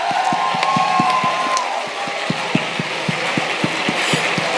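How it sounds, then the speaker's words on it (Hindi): Audience clapping along to music at a Safe Shop gathering, sharp rhythmic beats under a bed of crowd applause and a sustained tone early on, steady and fairly loud. "एक जोरदार तालियां म्यूजिक के साथ।"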